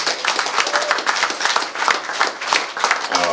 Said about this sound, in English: round of applause for Sheldon.